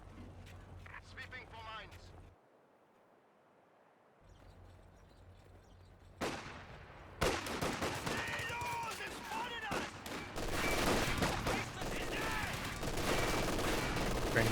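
Grenadiers fire rifles in the World War II strategy game Company of Heroes, with scattered sharp shots and explosions rising into a dense, continuous battle clatter after a quiet stretch, and a commentator talking over it.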